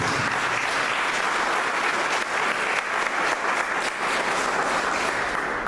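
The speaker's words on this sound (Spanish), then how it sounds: "Denle un aplauso a Dios por eso" A church congregation breaks into sustained, dense applause from many hands, loud and steady throughout with no pauses.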